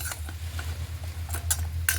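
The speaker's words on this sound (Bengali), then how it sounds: "এবারে ভালো করে একটু রসের সঙ্গে নেড়ে চেড়ে মিশিয়ে নিতে হবে।" A utensil stirs fried gaja sweets through sugar syrup in a pot, giving soft scattered clinks and scrapes over a low steady hum, with no voices.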